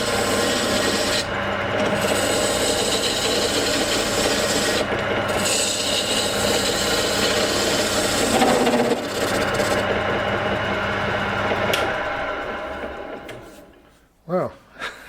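Wood turning on a lathe with a homemade spindle gouge made from an old file, a continuous rough scraping and rasping that runs steadily, then stops, followed by brief voice sounds.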